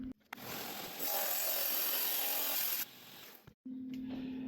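A rock saw grinds through an ugly rock from Mexico suspected of holding chalcedony, a loud steady cutting whine lasting about two seconds, with a lower buzz before and after and a short gap near the end.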